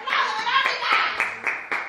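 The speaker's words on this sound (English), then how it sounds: "The family's all clapping" A family claps together indoors, a series of sharp hand claps in an uneven rhythm, close and fairly loud, with children's voices mixed in.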